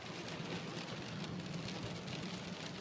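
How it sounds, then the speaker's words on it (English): Pouring rain during a storm on the drive back from four-wheel driving near Dubai, a dense steady hiss of heavy rainfall drumming on surfaces, continuous and even with no gaps. "pouring rain."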